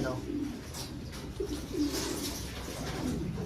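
Soft, low cooing of doves or pigeons repeats a few times, close by, over a faint background hiss.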